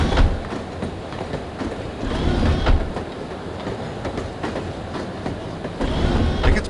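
A train running on rails in the video game No One Lives Forever, a continuous rumbling roll with rhythmic clickety-clack of wheels over track joints and occasional louder knocks, heard steadily throughout.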